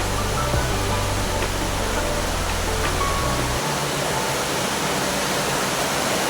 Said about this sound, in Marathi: मुंबई किल्ल्यापासून मी पहिल्यांदा एवढा मोठा पाऊस बघतोय